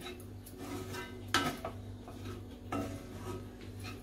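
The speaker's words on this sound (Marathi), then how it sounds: "कोथिंबीर चांगली मिक्स करून घेऊया" A spoon stirs egg bhurji with fresh coriander in a pan, making soft scraping and clinking against the metal, with two sharper knocks over a steady low hum.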